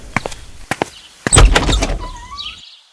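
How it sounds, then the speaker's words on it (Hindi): A door creaks and thuds open in a horror audio drama, preceded by a few sharp taps, followed by a short scraping swell and a faint high whine as it fades. "मैंने दरवाजा खोला"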